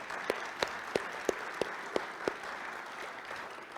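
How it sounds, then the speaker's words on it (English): A room of Rotary club members in Toledo applauds a speaker, dense clapping from many hands with a few sharp distinct claps standing out at a steady beat, continuous for the whole stretch. "One more round of applause for Ross Youngs"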